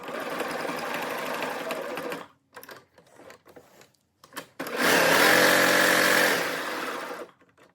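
A sewing machine stitching leg cuffs onto a bubble bottom garment runs in two loud bursts, a couple of seconds and then nearly three seconds long, with a quieter gap of small handling sounds between them.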